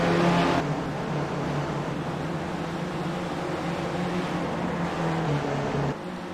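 A field of sim race cars at Charlotte drones along with a steady, continuous engine roar, loud and unbroken, with no voices over it.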